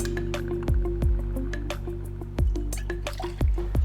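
Irish whiskey and lime juice being measured and poured for a cocktail, heard as a run of close, wet drips and small splashes that recur every second or so over a steady low background.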